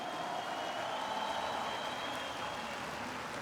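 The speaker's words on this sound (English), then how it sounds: "Give them a round of applause, please." Steady, dense applause fills the whole stretch, fairly quiet and even, like a concert crowd at Video Games Live, gamescom 2017, clapping at a distance with a faint tonal hum beneath.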